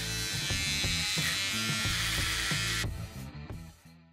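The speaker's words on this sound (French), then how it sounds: "voici le bruit de la tondeuse" A Remington Durablade electric beard trimmer running, a loud close-up steady buzz whose pitch wavers slightly as it moves, then drops to a softer, thinner hum near the end with no voices.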